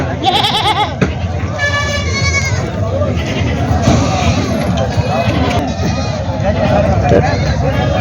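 Goats bleat over and over, close and loud, at the busy Tuesday goat market in Vasmat, with a crowd babbling and people talking all around.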